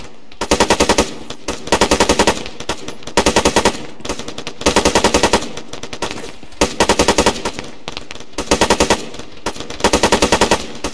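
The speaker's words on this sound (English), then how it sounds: "They're shooting at Alpha." Rapid bursts of machine gun fire from a military shooter video game, loud and close, repeating in a steady rhythm of short volleys separated by brief pauses, with no voices over them.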